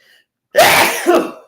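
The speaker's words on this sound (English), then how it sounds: "Yes, I'm the most dramatic sneezer ever" A single loud, forceful sneeze bursts out close up after a brief quiet intake of breath.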